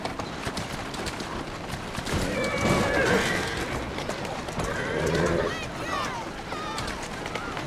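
Horse in Assassin's Creed Syndicate, with clip-clop hooves and a neigh or whinny amid game noise, moderately loud with some mid-clip bursts and talk nearby.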